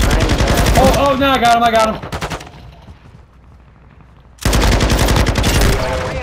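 Rapid bursts of gunfire in a shooter video game, loud and close, breaking off into a quiet lull before another heavy volley, with a player's voice speaking over the shots.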